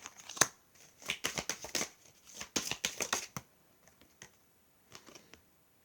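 Tarot cards shuffled and laid out, a run of close, crisp riffling flicks and taps in quick bursts, then a few sparse soft card placements trailing off into quiet.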